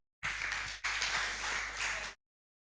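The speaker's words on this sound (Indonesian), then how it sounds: "Terima kasih, beri tepuk tangan." A church congregation claps together during a sermon on fathers, a dense burst of applause lasting about two seconds with a short dip partway through, fairly close and with no talking over it.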